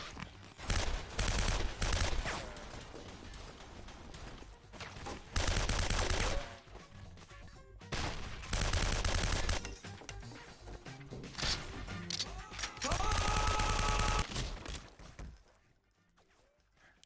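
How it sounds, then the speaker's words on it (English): Submachine gun fire from a PC video game comes in loud, rapid bursts broken by short pauses. Crashes and impacts mix in, and the firing fades out near the end. "Submachine gun."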